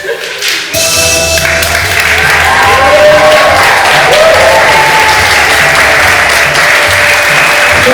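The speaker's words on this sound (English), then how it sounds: "please a round of applause one more time for our comedians on our show" Sustained applause from an audience at a Haitian gospel comedy show, dense steady clapping filling the room after a brief quieter moment at the start.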